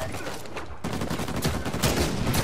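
Rapid gunfire from a co-op firefight in the video game Uncharted 4, loud and dense with overlapping shots throughout a wave of enemies.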